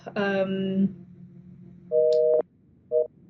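Two short electronic tones of a telephone busy signal sound after a brief harmonic burst, separated by a pause, after a call cuts off.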